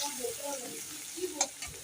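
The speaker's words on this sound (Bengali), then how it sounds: "রসুনটা একটু ভালো করে ভাজা হয়ে যায়" Garlic and onion fry in a wok with a quiet, even sizzle under light stirring, a brief sharp clatter near the end.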